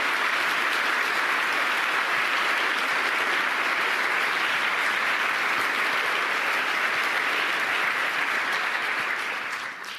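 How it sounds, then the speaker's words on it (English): A large conference audience at the Munich Security Conference claps and cheers in a dense, sustained wave of applause that holds steady and then fades slightly at the end. "Let's give them a round of applause."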